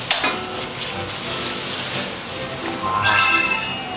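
Food stir-fried in a wok for a Chinese meal, a steady loud sizzle with scraping and clattering stirs, and a brighter hiss swelling near the end.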